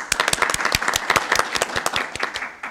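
A studio audience at a comedy show bursts into applause, dense steady clapping from many hands, loud and close for a few seconds.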